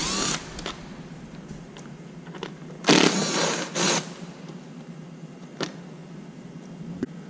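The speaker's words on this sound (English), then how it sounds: "I'm going to use my electric screw gun to get these 2 out." An electric screw gun backs screws out of a Can-Am Spyder during battery replacement, giving a couple of short, fairly loud whirring bursts around the middle, with faint clicks and handling noises before and after.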